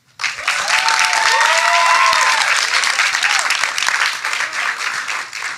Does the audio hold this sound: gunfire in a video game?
no